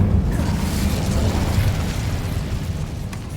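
An Incendio fire spell from Hogwarts Legacy roars as a dense, continuous fiery whoosh, loud and close throughout with a steady low rumble and no pause.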